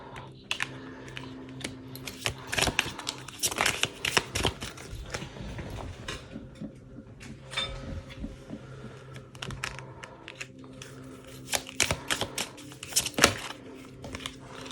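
Tarot cards are shuffled in quick, close riffles and taps, giving a busy, uneven run of soft clicks and papery flutters with brief pauses, quiet and without talk.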